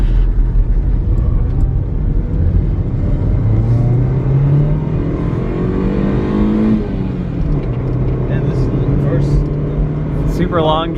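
A Honda Civic engine accelerates under load through long gears, its rising whine drawn out in two pulls with a brief drop between them, loud and close over a steady road rumble.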